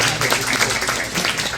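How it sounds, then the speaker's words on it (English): Audience applause for a high school jazz ensemble in a school performance hall, a continuous close burst of many hands clapping at fairly high level, with faint crowd murmur mixed in. "you can give them a round of applause for that"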